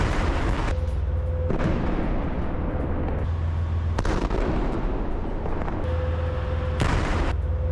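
Booming artillery fire and explosions from an IDF strike in Gaza, loud repeated blasts rolling over a continuous low rumble with no voices.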